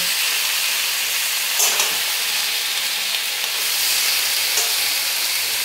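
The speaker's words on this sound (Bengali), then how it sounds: "এবার আমি এটাকে ভালো করে সবজির সঙ্গে মিশিয়ে নেব।" Greens are stirred into vegetables frying in a pan, producing a steady close sizzle and hiss with faint scraping stir strokes, carrying on without any voices.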